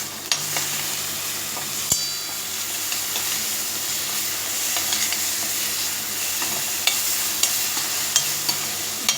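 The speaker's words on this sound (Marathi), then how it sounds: "परतून घेऊयात वाटण" Masala paste sautés in hot oil in a pan for a village-style fish curry, a steady loud sizzle and hiss with light scraping stir strokes throughout, no voices.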